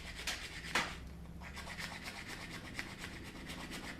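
A small rasp files the tip of a carved wooden horn in short, close, quiet rubbing strokes, several scrapes repeating in an uneven rhythm with no talk.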